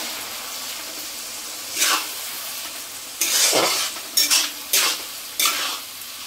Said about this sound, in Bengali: এবার আমি দেব কাশ্মীরি লঙ্কা, মশলাটাকে আমি ভালো করে কষিয়ে নেব